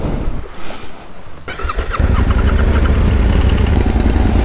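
A Yamaha Ténéré 700 motorcycle ridden off-road, its engine loud and close, starting rough and uneven, then settling into a steady, heavy rumble as the bike powers along.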